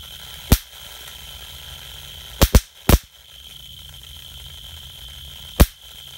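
A Geiger counter beside a homemade pickle jar fusor gives a handful of sharp, isolated clicks at irregular intervals over a steady faint electrical whine, with a quick double click in the middle and no one talking.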